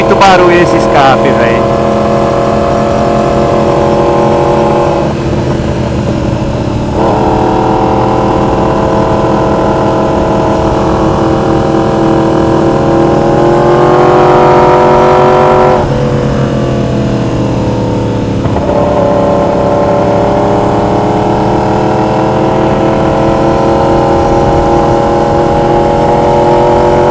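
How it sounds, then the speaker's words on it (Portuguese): A loud motorcycle exhaust drones close by for the whole stretch, its pitch climbing and dropping as the engine is revved several times. "Muito barulho esse escape"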